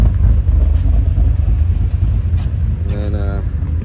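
A 2019 Chevrolet Silverado engine idles loudly through its stock mufflers with a slight choppy lope, a deep, steady rumble that stays close and constant.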